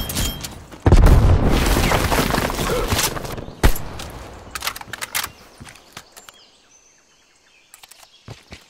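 A frag grenade blast in the shooter game Call of Duty: Black Ops Cold War hits with a loud, heavy boom, followed by a second sharp crack and scattered debris that fades into near silence.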